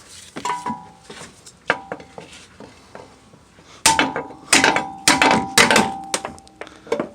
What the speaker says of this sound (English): Can actually hammer it out.